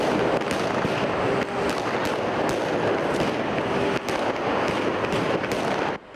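Firecrackers burst during a street protest, a dense, loud crackling barrage with rapid sharp pops over a constant rumble of crowd and wind noise.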